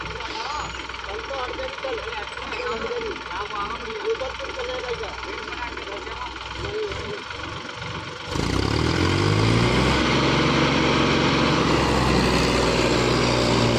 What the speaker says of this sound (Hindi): ये लगता है ट्रैक्टर।